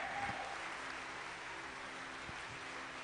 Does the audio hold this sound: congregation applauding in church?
yes